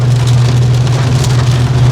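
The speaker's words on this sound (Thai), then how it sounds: "ฝนตกพี่น้องเอ้ยตลอดเนาะ" Rain falls steadily, a dense, even hiss with no breaks, over a constant low hum.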